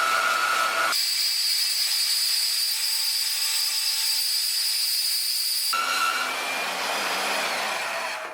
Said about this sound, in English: got our header cut to length and welded the adapter slip fitting for the muffler on